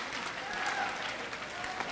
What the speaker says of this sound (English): I want you to clap for every test that you failed.